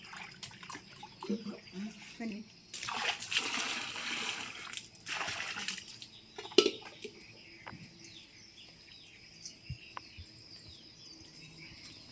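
Water is poured and splashed outdoors in a village, coming as two broad rushing bursts followed by a sharp splash, with soft bird and insect sounds in the background.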